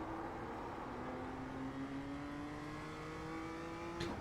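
A BMW M2 race car in the iRacing video game on the Okayama circuit pulls steadily out of a corner, its engine note rising in one continuous, loud climb of revs with no speech over it.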